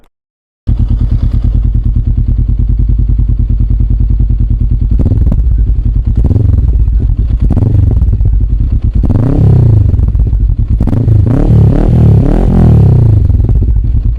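A Honda NX500 motorcycle fitted with a full-system exhaust and a BMC air filter, idling with a deep steady burble, then revved repeatedly in rising bursts, close and loud.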